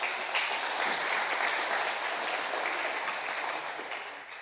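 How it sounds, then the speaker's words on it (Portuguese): A church congregation applauds during a worship service, a dense, steady patter of many hands that holds evenly and tapers off slightly toward the end, with no voices over it. "Aplauda o Senhor"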